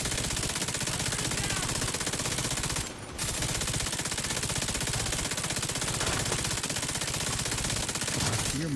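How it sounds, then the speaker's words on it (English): An exotic light machine gun firing in a first-person shooter video game, a loud continuous burst of rapid fire that breaks briefly once and then resumes, dense and unrelenting throughout. "It is the blue screen LMG exotic weapon."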